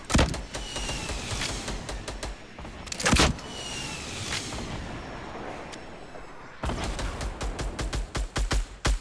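Gunfire in the game Fortnite aimed at an enemy base, bursts of rapid shots and sharp cracks with a dense volley in the final seconds, heard alone.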